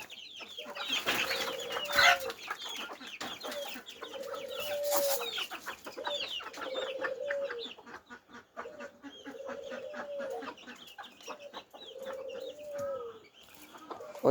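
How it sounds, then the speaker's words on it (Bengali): A flock of native chickens feeding gives off steady, overlapping clucks and repeated low churring calls at moderate distance, rising and falling in uneven bursts, with brief rustling and knocks mixed in. "দেশি মুরগিগুলো এখন খাবার খাচ্ছে"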